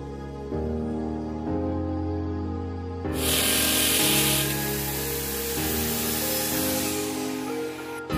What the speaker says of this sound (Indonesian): kita bor dulu dindingnya, lalu masukkan visernya